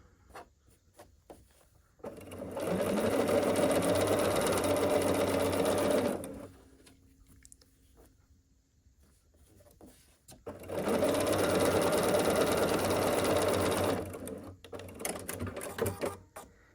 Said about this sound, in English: I'm just gonna chain piece the second one while we're at it.